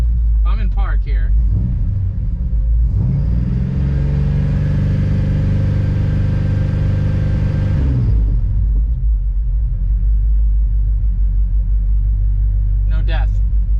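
A 1969 Plymouth Fury III's engine idles steadily in park, a loud continuous low rumble that briefly rises and settles midway through, with short bursts of talk near the start and end.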